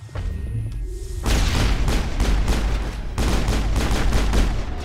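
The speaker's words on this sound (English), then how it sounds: "Open fire! Open fire!" Gunfire in the video game Mass Effect, heard as rapid, loud bursts of weapon fire that start after a quiet opening and keep going as dense, booming volleys.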